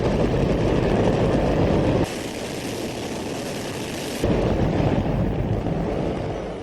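A hydrogen-fuelled rocket engine roars during a static test firing, a continuous, overwhelming broadband blast heard alone, with an abrupt shift in character midway before the full roar returns.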